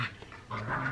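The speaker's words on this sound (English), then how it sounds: "if you guys hear all the excessive squeaking and stuff, that's our dog" Pet dog making short whimpering squeaks and soft panting noises indoors, a brief burst of high, thin squeals close by.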